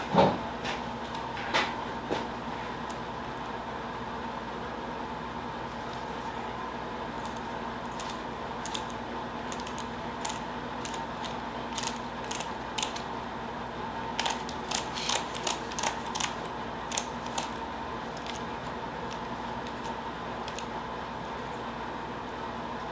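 A torque wrench tightens the bolts on a three-piece wheel, sharp clicks and ratcheting ticks scattered over a steady background hum, with a denser cluster of quick clicks partway through.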